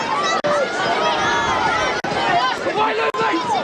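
Stadium crowd at a 1983 National Soccer League game, Preston Makedonia against South Melbourne Hellas, giving a loud continuous mass of jeering and shouting voices with wavering howls through the whole stretch, close and dense.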